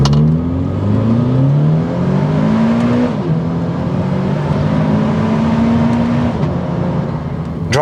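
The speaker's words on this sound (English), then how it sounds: "Driving the supercharged Toyota GT86." A supercharged Toyota GT86 with an automatic gearbox is being driven, its engine note rising and falling through gear changes with a steady whine beneath, loud and close from inside the car.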